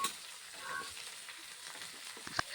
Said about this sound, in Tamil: காய் வந்து பார்த்தீங்கன்னா வடச்சட்டியில் போட்டு எண்ணெய் ஊற்றி நல்லா வணக்கிக்கலாங்க